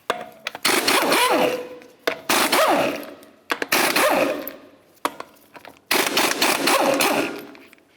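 Lug nuts come off the front wheel of a 1998-2003 Toyota Solara in five loud, close bursts of whirring, rattling tool noise. Each burst swells and then trails off, with short gaps between them.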